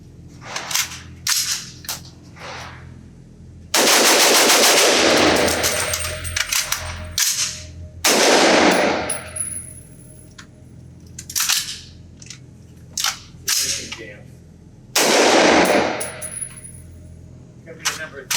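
Gunfire from a Q Honey Badger .300 BLK pistol at an outdoor range, loud sharp shots in uneven bursts and single reports, with short rapid strings between pauses.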